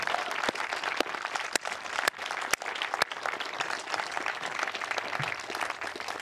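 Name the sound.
applause for soldiers at a change of command ceremony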